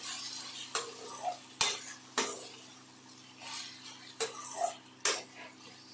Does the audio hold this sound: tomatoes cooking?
yes